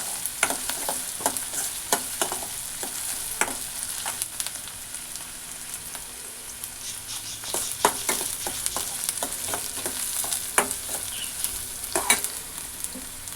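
Ingredients for ugani borugulu (puffed rice dish) frying in a pan with a steady sizzle, stirred by a spoon that taps and scrapes the pan in irregular bursts, close and moderately loud, no talking.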